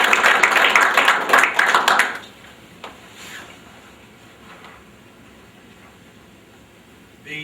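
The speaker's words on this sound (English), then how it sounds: "join me in applauding their" Audience applause at a chamber of commerce awards ceremony honoring shared municipal services, loud clapping for about two seconds that stops abruptly, followed by quiet room tone with a faint tick.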